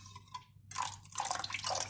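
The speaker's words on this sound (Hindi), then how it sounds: "इसमें थोड़ा सा पानी डाल के देखेंगे बस।" Water poured into a thick yogurt batter for dahi bhalle, brief faint drips followed by soft splashy pouring and sloshing in two short bursts, quiet and close.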